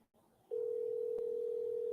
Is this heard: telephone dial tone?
yes